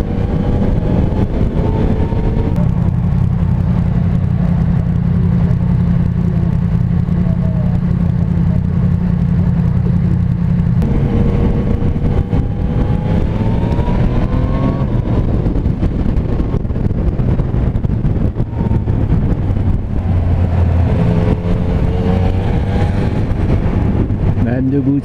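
A Yamaha Niken three-wheeled motorcycle ridden in the rain: a loud, steady engine drone whose pitch rises and falls with the throttle, under heavy wind rush, while the rider talks throughout.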